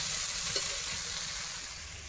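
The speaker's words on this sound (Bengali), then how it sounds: "এই যে শাপলা ভাজা আমি শুরু করে দিয়েছি," Water lily (shapla) stems frying in a pan give a steady, close hiss of oil throughout, with a brief stirring scrape partway through and no talking.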